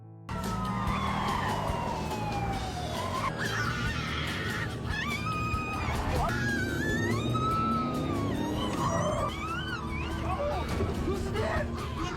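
A hospital ambulance races along with its siren wailing, loud and continuous, rising and falling sweeps over busy traffic and street noise for the whole stretch.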